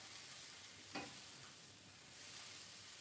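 Vegetables for fresh spring rolls stir-fried in a pan, giving a faint, steady sizzle with soft scraping stirs and one brief sharper clatter, no voices.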